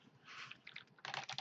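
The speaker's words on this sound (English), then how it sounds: "Just go to the Google machine and type in," A search query typed on a computer keyboard: two quick bursts of crisp key clicks, close and fairly quiet, with a short pause between them and no voices.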